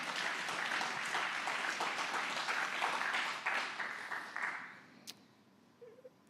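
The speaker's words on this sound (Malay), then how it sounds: "beri tepukan kepada Tuhan." Church congregation clapping together during a sermon, a dense burst of applause that holds for about four seconds, then thins out and fades to quiet.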